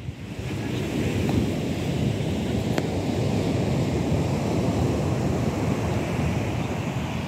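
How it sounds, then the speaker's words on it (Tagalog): Ocean waves wash steadily onto the beach at San Sebastian, Barceloneta, Barcelona, a continuous broad surf roar mixed with wind buffeting the microphone, with no talking. "Ayan ang sitwasyon ng karagatan dito sa Barcelona."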